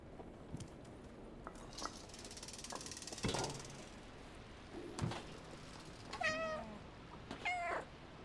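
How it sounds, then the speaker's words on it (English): A cat in the video game Stray gives two short meows late on, over faint ratcheting, clicking mechanical noises and footsteps in a quiet game scene, fairly soft overall. "Yeah, definitely a cat."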